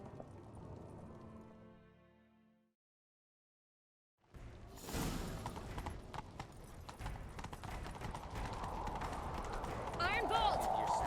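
A horse gallops in the video game The Witcher 3: Wild Hunt. After fading game sound and a short silence, rapid hoofbeats come in close and loud and carry on with rushing movement.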